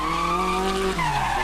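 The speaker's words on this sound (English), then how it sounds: "you have the perfect recipe for some no-holds-barred drifting" A tuned rear-wheel drive car with a bigger exhaust, intercooler and retuned computer making around 350 horsepower drifts, its tires squealing loudly and continuously as the pitch bends and dips.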